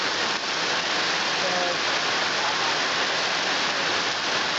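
Heavy rain drums steadily on a roof during a wet outing, a loud, dense, even hiss that fills the whole stretch without pause.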